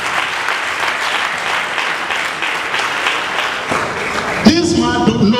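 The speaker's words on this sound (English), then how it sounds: "Please can you clap for my honorable place?" A crowd at an artisan empowerment event applauds with sustained, dense clapping, and a voice starts speaking over the dying applause near the end.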